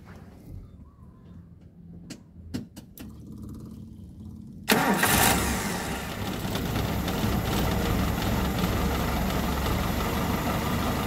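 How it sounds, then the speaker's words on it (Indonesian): A Zebra Espass engine is turned over with the electric starter after a few clicks, then catches and settles into a steady, close mid-pitched idle that continues to the end. "Kemudian kita berikutnya adalah coba starter, apakah ini nyala atau tidak, tapi harusnya sudah nyala."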